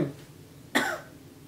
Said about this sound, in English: Clearing my throat, sorry.